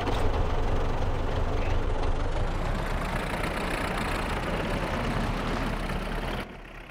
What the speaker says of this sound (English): Yellow tractor is going to plow it on fields.